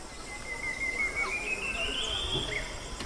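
A single bird sings a thin, high, wavering whistle over a quiet lakeside ambience at Lake Bunyonyi in Kabale, faint and somewhat distant against a soft background hiss.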